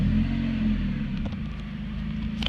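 A 2010 Honda Civic with a loud aftermarket exhaust idles with a deep, steady engine rumble that sounds close and fairly loud, and its pitch shifts slightly.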